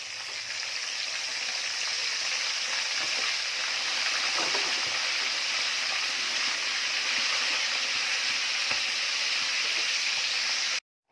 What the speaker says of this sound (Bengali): এই যে চিকেনটা ভাজা হয়ে গেছে